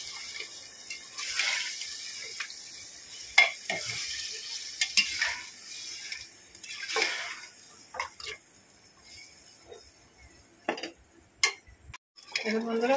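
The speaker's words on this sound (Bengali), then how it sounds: "মাংসগুলো দিয়ে দেব। এটাকে একটু কষিয়ে নেব ভালো করে।" Beef sautéing in a pot for biryani: soft sizzling under repeated scraping and clinks of a spoon stirring against the pot, with sharp metallic knocks scattered through and quiet stretches between.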